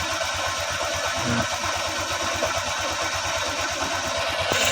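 A Honda Click 125i scooter engine idles steadily with a fast, even pulsing rumble, close by and fairly loud, with no one talking.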